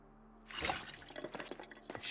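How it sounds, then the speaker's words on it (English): Water runs and splashes from a tap into a container in Project Zomboid, a short burst of trickling and dripping starting abruptly and continuing alone, fairly quiet. "Let's fill up our water."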